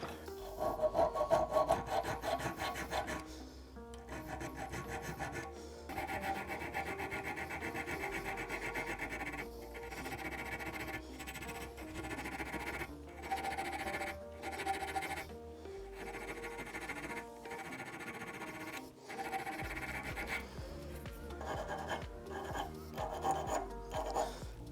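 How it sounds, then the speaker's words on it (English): A worn chainsaw file rasps in steady back-and-forth strokes against metal at close range, with brief pauses between bursts of rubbing over roughly twenty-five seconds. "This is a chainsaw file, and this is kind of worn"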